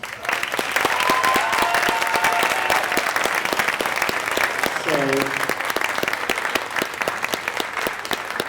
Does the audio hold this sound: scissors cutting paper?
no